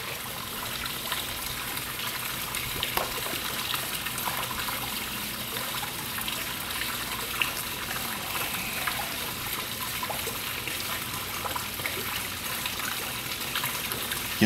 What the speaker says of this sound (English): it's very important that we fill up the ballast tank, look for bubbles